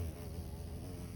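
A black bee-like pollinating insect buzzes faintly on a farm, a brief, steady low drone with no talking.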